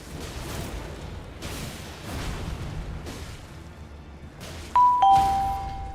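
A two-note ding-dong alert chime for a new stream follower rings out clearly near the end, layered over booming Elden Ring gameplay sounds and rumbling battle noise.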